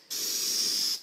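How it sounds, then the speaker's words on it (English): A spray can of rust primer hisses in one steady, close burst of about a second onto old rusted metal heater covers. "So I'm going to begin spraying the rust primer."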